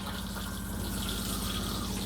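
A motorhome cassette toilet flushes with a steady, close rush of water that runs continuously and evenly throughout, with no voices.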